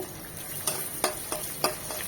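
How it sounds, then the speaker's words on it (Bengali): Half a cup of chopped onion sizzles in hot oil for mutton rezala, a steady crackle with several sharp stirring clanks against the pan. "দিয়ে দিব হাফ কাপ পেঁয়াজ কুচি"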